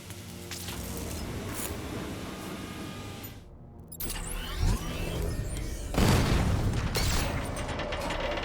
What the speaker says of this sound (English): if you see a breakable wall, it is faster just use the Batmobile's 60mm cannon